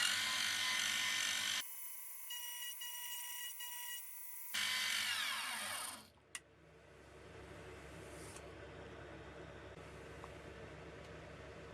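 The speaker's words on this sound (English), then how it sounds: "I'll use that to machine the sides down, so the sides are dead center as well." A milling machine cuts the sides of a Walther LG400 air rifle scope rail, a bright whining grind that switches and fades midway to a lower, quieter machine hum, with no voices.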